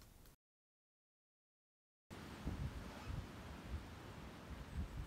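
Strong wind blowing outdoors around a pasture the day after a storm, a steady loud rushing roar with gusty low buffeting against the microphone, preceded by a brief cut to silence.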